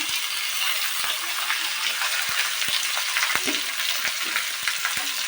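Tomato hits a pan of browned onions and fries with a loud, steady sizzle, broken by occasional sharp taps and scrapes of a stirring spoon.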